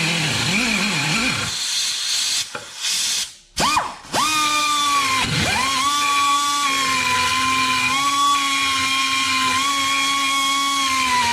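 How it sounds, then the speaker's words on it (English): A power grinder cuts metal on a 2004 Toyota Corolla control arm, giving a steady high whine with a hissing edge that dips briefly twice as the tool lifts off, then spins back up and grinds on. "I need to grind just a little bit off of this so I can get that bolt started"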